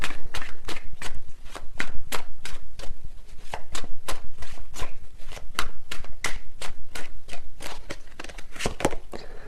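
Tarot cards shuffled by hand in a steady run of quick, crisp riffling snaps, close and fairly loud, repeating at an even rhythm with no pauses.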